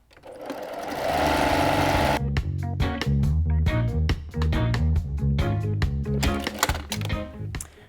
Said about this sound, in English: And you're just going to sew along both short sides, okay?